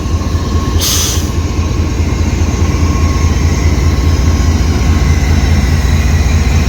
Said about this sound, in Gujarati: તો જે ટ્રેન છે નવી જ છે તમે જુઓ